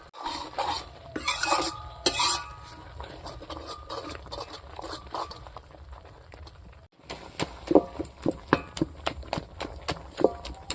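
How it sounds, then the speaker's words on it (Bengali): Chopped raw onions are stirred in a pan while cooking palak dal, with a scraping spatula and scattered clinks, followed by a sharper run of rhythmic knocks and scrapes after a brief break. "এখন আমি ভালো করে নাড়াচাড়া করে নেব।"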